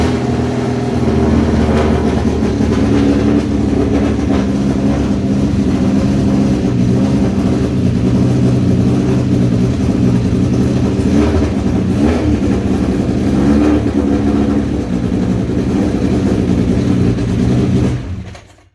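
A car engine, freshly fitted with a new cam belt after a valve timing check, runs steadily on a dyno, a loud continuous mid-pitched drone with rising revs throughout, cutting off near the end.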